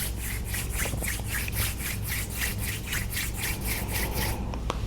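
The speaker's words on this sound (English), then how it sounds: "bring them down to rub your palms together" Palms rubbed together briskly during a yoga flow, a steady run of about a dozen rhythmic swishing strokes, close and fairly loud, with no talking.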